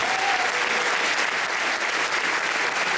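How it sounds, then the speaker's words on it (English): A concert audience in a venue applauds and cheers for the sound crew running the board at the back, a dense, sustained wash of clapping that holds steady throughout. "let's hear it for Ryan and Jeremy doing the sound in the back, and Spencer doing"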